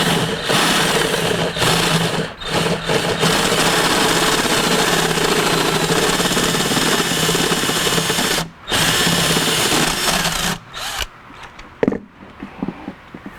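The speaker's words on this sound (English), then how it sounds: "we'll just take a unibit like this one, and we will just grind that sucker" Power drill driving a unibit step bit to grind metal off, a loud, continuous close-up whirring grind with brief pauses near the end and a few stops and restarts.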